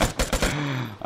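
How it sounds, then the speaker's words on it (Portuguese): Gunfire volley in the video game Vigor, a quick burst of several loud shots in a rapid rhythm, then a ringing tail as the shooting stops. "A salva de tiros aí."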